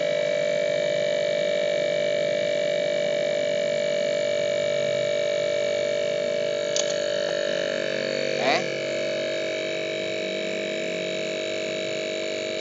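A refrigerator compressor drones with a loud, steady electric hum under pressure after a power cut or after being unplugged, with a couple of faint clicks partway through the continuous tone.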